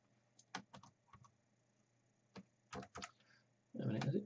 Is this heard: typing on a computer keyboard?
yes